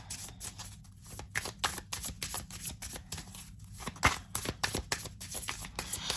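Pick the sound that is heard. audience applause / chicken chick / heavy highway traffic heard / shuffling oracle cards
shuffling oracle cards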